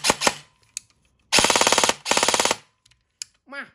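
Specna Arms HK416-model airsoft electric gun (SA-H20/SA-H21) firing full-auto in two loud rapid bursts of about half a second each, preceded by a few sharp clicks and followed by small mechanical clicks.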